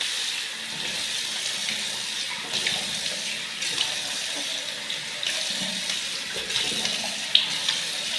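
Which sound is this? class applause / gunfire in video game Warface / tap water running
tap water running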